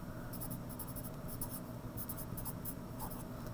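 Pencil scratching on paper while writing an annotation on a drawing of real-life objects, a series of short, quiet strokes in irregular bursts, close and alone.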